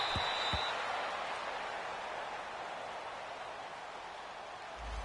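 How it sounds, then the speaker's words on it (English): Home crowd noise in a PS4 football video game, a steady broad wash of cheering that holds at a moderate, distant level and tapers slightly, with a couple of brief low thumps at the start. "This home crowd, they're happy with that call."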